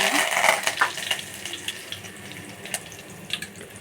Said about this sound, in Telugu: ఆయిల్ కాగింది కదండి, కొంచెం ఆవాలు వేసుకుంటున్నాను. చూడండి, ఇప్పుడు కరివేపాకు వేసుకుంటున్నాను.